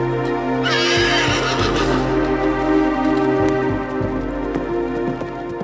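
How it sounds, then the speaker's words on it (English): A warhorse lets out one loud, quavering whinny that rises and falls over about a second, carried over a steady musical score with a few soft dull thuds afterward. "Such horses cost a fortune."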